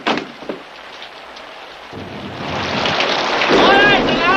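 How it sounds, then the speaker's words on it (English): Rain falling steadily, a broad hiss that swells louder in the second half, with a burst of wind-like rumble and a brief voice near the start. "It's raining."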